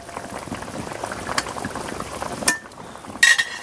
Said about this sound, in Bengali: আমার ঝোলটা ফুটে উঠে গেছে, আলুটা প্রায় সেদ্ধ হয়ে গিয়েছে।